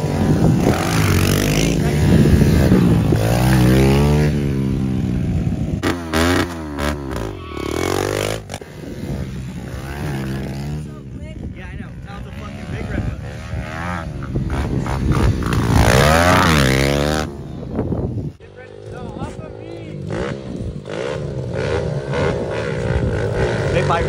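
Pit bikes race on a shovel-built dirt hill track, small engines revving and whining loudly in overlapping bursts that rise and fall as riders pass close by.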